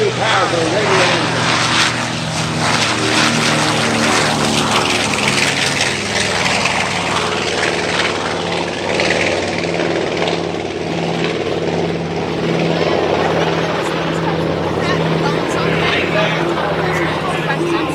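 North American B-25 Mitchell medium bomber from World War II making an airshow flyby, its two radial engines producing a loud, sustained propeller roar that swells and holds for the whole span.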